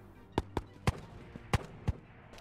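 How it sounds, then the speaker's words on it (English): Gunfire in the video game Ghosts of Tabor: six sharp, separate shots crack out in an irregular burst over a quiet background, some louder and closer than others. "That's a lot of gunfire."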